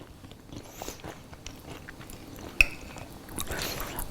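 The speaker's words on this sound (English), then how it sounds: "It's really crunchy, but like a candy, and very, very chewy on the inside." Close, crunchy biting and chewing on a candy-like food that is hard outside and chewy inside, with one sharp crunch in the middle among soft mouth sounds.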